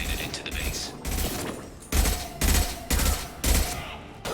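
Rifle fire in the Mass Effect video game, bursts of loud close gunshots repeating in a steady rhythm of about four blasts over a few seconds, with combat noise between.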